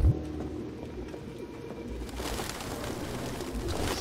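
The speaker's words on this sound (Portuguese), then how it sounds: "Sai, pombo." Pigeons coo softly and repeatedly in Detroit: Become Human, a low burbling call over faint game ambience, with a louder rustle of background noise joining partway through.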